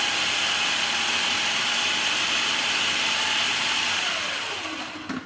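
A blender purees olive tapenade at high speed, a loud steady motor whir lasting several seconds before spinning down with a falling pitch and a final clunk.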